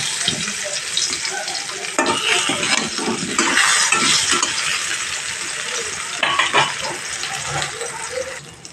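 Eggplant pieces fry in a pan, a steady broadband sizzle with the scrape and clink of a utensil turning them, loud and close with no talking.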